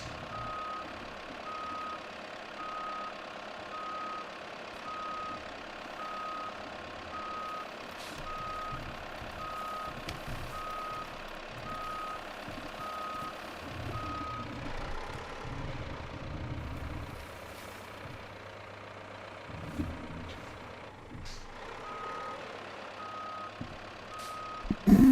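In the off-road construction game Roadcraft, a heavy truck idles and rumbles while its reversing alarm beeps steadily in a regular rhythm, with engine revs rising and falling toward the end.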